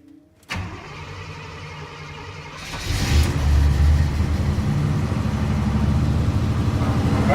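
A cammed Chevy 305 V8 cranks and fires on a cold start, catching with a sudden burst after a brief crank, then settles into a loud, lumpy, choppy idle with a slight rise in revs partway through.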